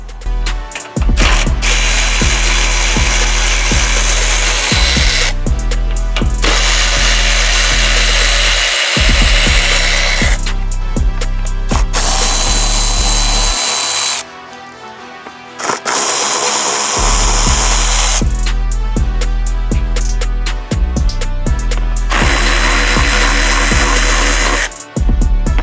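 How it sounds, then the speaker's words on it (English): Power tool loosening bumper bolts on a 4th-gen Toyota Tacoma makes loud, close, rattling ratchet bursts in several long runs, each lasting a few seconds, with brief pauses between them. "Next, we're going to remove the bolts along the front edge of the bumper."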